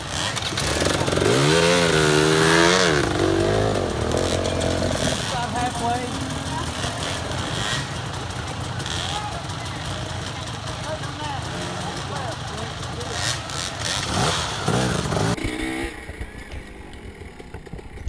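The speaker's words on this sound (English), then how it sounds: "I could hear motorcycles revving up" Dirt bike engines rev during a TKO race on a steep downhill, with a rising and falling engine howl up close at first, then rough continuous engine noise under a speaking voice.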